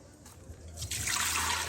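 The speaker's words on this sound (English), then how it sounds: "As right now I add in the water" Water poured into a cooking pot set on the fire for vegetable soup, a faint trickle that swells into a steady splashing pour over a low background hum.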